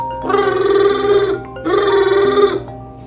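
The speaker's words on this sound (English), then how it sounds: "my motherfucking phone ringing" A phone ringing with an electronic tone in two long bursts separated by a short pause, loud and close, with no voices.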